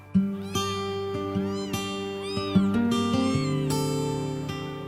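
Two abandoned newborn kittens found on a quay in Leeuwarden mewing repeatedly, high, thin cries overlapping in quick succession, close and clear with no talk.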